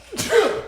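A single close, loud human sneeze, a quick sharp intake followed by a forceful burst lasting under a second, heard alone without talk.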